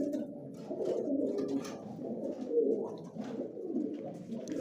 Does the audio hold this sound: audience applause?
no